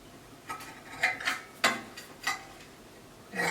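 Scissors cutting fabric for a short cowl kaftan dress: about six separate crisp snips at an uneven pace, each a short close crunch against a quiet room.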